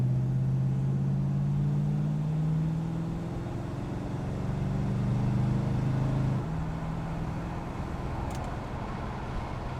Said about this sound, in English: Let's give it a little gas here.